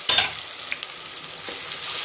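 Two large, thinly sliced onions sautéing in a pan for mushroom biryani: a steady close sizzle, with sharp stirring clatters at the start and a few light scrapes after.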